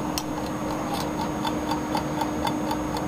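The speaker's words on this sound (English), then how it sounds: "But as you can hear, the clock works." A secondhand mechanical clock ticks in a steady, even rhythm, about three ticks per second, crisp and close in a quiet room with no voices.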